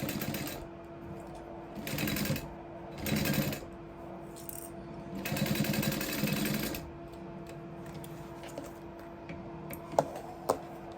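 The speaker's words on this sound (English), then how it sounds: "We're gonna top stitch on both sides." A sewing machine top stitches a leather sling in three or four short mechanical bursts of rapid ticking, separated by pauses, followed by a couple of sharp clicks.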